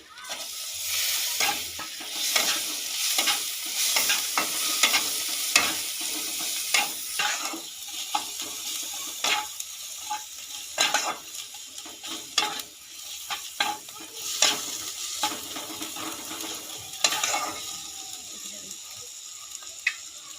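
Chopped tomatoes tossed into a frying pan of spiced masala for a whole-lentil dal dish, then stirred: a continuous sizzle broken by repeated scraping and clattering strokes of the spatula, close by and without speech.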